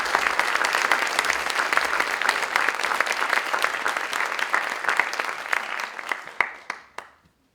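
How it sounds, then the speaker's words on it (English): Audience applause for studio art students at a high school art exhibition and recognition event, steady dense clapping throughout that thins out and ends with a few last scattered claps. "you can give them a round of applause while I switch presentations"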